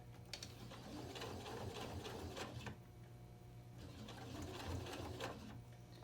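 A sewing machine stitches slowly through thick rope for a dog pull toy, short bursts of quiet mechanical clatter separated by a brief pause, close and alone.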